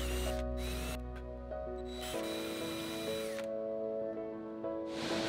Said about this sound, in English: I decided to countersink all of them just to give it a more finished look.